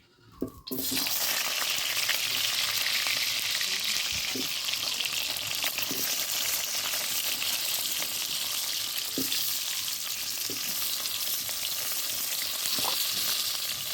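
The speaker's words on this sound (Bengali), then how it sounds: "মাংসের জন্য আলুগুলো যে কেটে রেখেছি আলুগুলো ভেজে নেব।" Cut potatoes sizzle in hot oil in a wok with a loud, steady frying hiss after an initial splash, and occasional soft stirring clinks sound close by; no talking.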